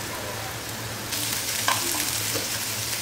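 Steady sizzling of eggplant frying in hot oil, close and continuous, with a brief clink partway through and no talking.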